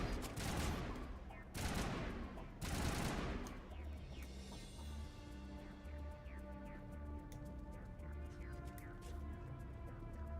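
Video game gunfire opens with three long, loud bursts of rapid shots, then gives way to quieter, scattered firing over a steady droning backdrop; no voices are heard.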